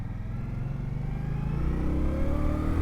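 A 2019 Indian Scout Sixty V-twin motorcycle engine drones loudly and close while riding, a steady low throbbing rumble that rises slightly in pitch as it accelerates.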